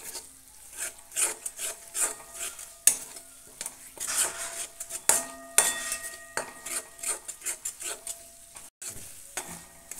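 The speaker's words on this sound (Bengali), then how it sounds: "তারপর দইটা দিয়ে ভালো করে নেড়ে নেবেন" Yogurt being stirred into Kashmiri aloo dum in a pan over low flame, a steady rasping scrape of spoon against pan with soft sizzling underneath, repeated strokes close up with no voices.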